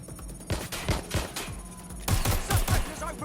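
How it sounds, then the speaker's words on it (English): Rapid bursts of gunfire from a Watch Dogs Legion shootout, with sharp repeated shots in clusters, some ragged and others in tight volleys, loud and close and without speech. "Suspect has opened fire."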